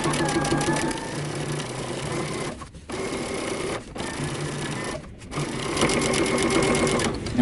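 A sewing machine understitches a pants facing, its motor whirring in steady runs close up, broken by short pauses as the fabric is adjusted, with no talking.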